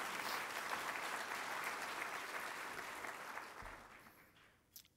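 An audience at a gala dinner claps steadily, the applause gradually fading before a brief knock near the end.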